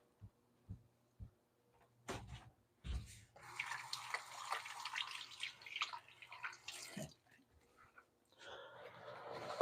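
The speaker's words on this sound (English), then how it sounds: "I do have to rinse my hands real quick" Tap water runs as hands are rinsed under a faucet, a soft splashing stream that starts after a few faint knocks and continues at low level for several seconds.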